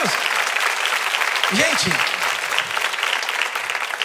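A church congregation applauds loudly and steadily throughout, with a voice speaking briefly over the clapping.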